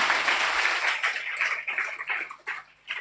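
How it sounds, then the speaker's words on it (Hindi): A congregation at a Hindi-language Christian prayer service claps to welcome first-time visitors: a dense, steady wash of many hands that thins into scattered claps and fades out near the end. "हम तालियां बजाकर उनका स्वागत करेंगे।"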